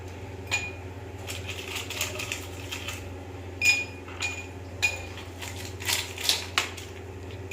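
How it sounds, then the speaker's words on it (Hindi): Ice cubes clink and crunch into a glass for a mango mojito, a series of irregular sharp clinks and rattles over a low steady hum. "हमने डाल दिया आइस"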